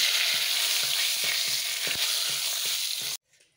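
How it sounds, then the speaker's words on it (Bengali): Dried chillies, whole cumin and a bay leaf sizzle loudly in hot oil for a tempering, a bright steady crackle with soft clicks of stirring, cutting off abruptly near the end. "এখানে দেখো আমি ফোড়নের জন্য নিয়েছি শুকনো লঙ্কা আর গোটা জিরে আর একটু তেজপাতা"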